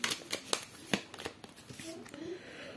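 Tarot cards being shuffled and drawn for a reading, a quick series of close riffling flicks and snaps followed by softer sliding and handling sounds, with a voice speaking underneath.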